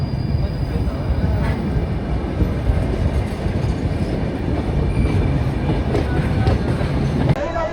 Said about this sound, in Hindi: ये हमारी ट्रेन है जिससे हम आए हैं दिन के 1 बजे, उसने हमको छोड़ दिया है।